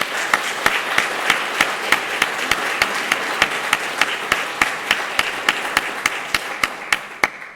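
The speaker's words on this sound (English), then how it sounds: "Please join me in applauding our 3 panelists this evening." An audience applauds three panelists at an evening forum, steady broadband clapping throughout with sharp, evenly spaced loud claps punctuating the wash, no voices heard.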